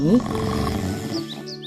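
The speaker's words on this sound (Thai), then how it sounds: "พวกเขาก็ได้ยินเสียงกรนดังสนั่นลั่นออกมาจากถ้ำของเจ้าหมี" A cartoon bear snores loudly in a cave, a deep rumbling roar-like snore that runs throughout, with a voice speaking over it.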